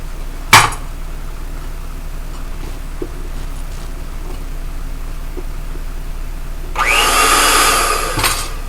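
An electric hand mixer creaming butter and egg yolk for orange crisp wafers in a home kitchen whirs loudly for under two seconds near the end, after a sharp click and quiet room tone.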